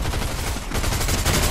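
Rapid burst of gunfire in Fortnite, several quick close shots rattling loudly over a short stretch, with no talk.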